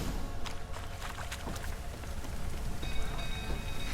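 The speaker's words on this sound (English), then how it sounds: "Looks like rain." Rain in the game Witcher 3, a steady hiss of rainfall with scattered drop-like taps and clicks, fairly faint and heard on its own.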